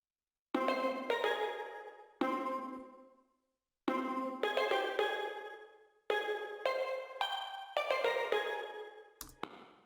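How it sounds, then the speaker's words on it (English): Steel drums play a syncopated melodic pattern in a beat, bright ringing metallic notes struck in short clustered phrases separated by brief gaps, each note decaying with a shimmering tail. "So I've decided to add some steel drums and I played this pattern."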